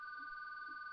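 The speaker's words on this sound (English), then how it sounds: "Answer the phone." A telephone rings steadily with a bright, continuous electronic tone that lasts the whole second, fairly faint, with no talking over it.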